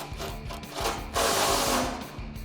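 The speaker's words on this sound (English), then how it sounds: "Grab your ratchet, tighten down the rest of them." Rapid repeated clicking and grinding of a hand ratchet tightening bolts on a heavy-duty steel front bumper of a 2019-2021 Chevrolet Silverado 1500, close and loud, in steady bursts with a short pause, no talking.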